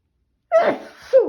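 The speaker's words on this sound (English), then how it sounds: "I'm going to sneeze, pardon me." A single loud, close sneeze bursts out with a sharp intake and release, followed by a brief breathy tail.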